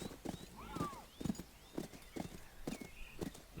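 Rhythmic clip-clop of horse hooves in Call of Juarez: Bound in Blood trots steadily along, with a brief whinny early on and faint background sounds.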